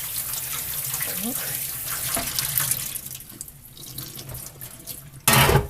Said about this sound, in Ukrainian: я завжди промиваю холодною водою